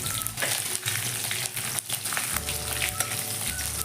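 Chana dal and urad dal sizzle and crackle as they roast in hot oil in a pan, a loud, steady frying hiss with occasional scraping stirs close by.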